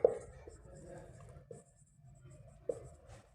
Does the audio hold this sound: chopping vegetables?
no